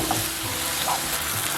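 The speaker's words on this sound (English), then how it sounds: "I'm going to turn up my flame a bit to high, and then stir fry this for a few minutes" Ground beef stir-frying over a high flame, giving a steady, loud sizzle with soft stirring underneath, continuous and close.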